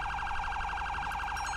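A police car siren from the GTA V LSPDFR mod wails steadily and loudly throughout, its rising-falling tone cycling rapidly with no voices over it.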